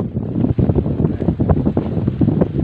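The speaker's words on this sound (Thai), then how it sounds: "โอ้ลมมาแล้วลมมาแล้วลมหัวกุด" A strong gust of wind buffets the microphone outdoors, a loud, continuous rumbling roar with flapping pulses that rises and falls for a few seconds, with no voices over it.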